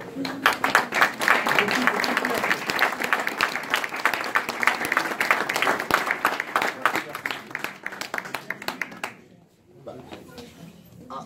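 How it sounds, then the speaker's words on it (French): An indoor audience applauds a photographer at an exhibition honouring construction-site workers, with dense, steady clapping for about nine seconds before it quickly dies away, leaving a few scattered claps and faint murmurs. "je crois qu'on peut l'applaudir vraiment"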